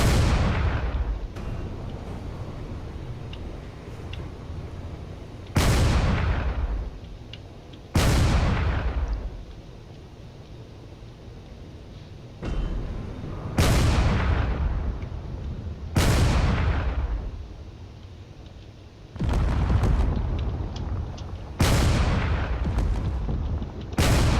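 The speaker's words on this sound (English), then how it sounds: "Those cannons are probably going to end up doing a lot of damage to that frigate" Cannons fire at a frigate in a video game battle: heavy booms land every few seconds, each fading slowly over a continuous low rumble, with no talking.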